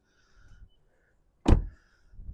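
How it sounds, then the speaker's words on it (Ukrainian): A 2007 Mercedes W211 E-Class 1.8 Kompressor car door shutting once, a single solid thud heard close up in an otherwise quiet setting. "Двері закриваються дуже приємно."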